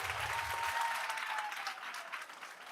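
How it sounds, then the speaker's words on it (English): Steady applause from an audience at a regular school board meeting, a dense sustained clatter of many hands clapping, fairly loud throughout, gradually easing toward the end with no talk over it. "I'm going to ask again that we hold our applause"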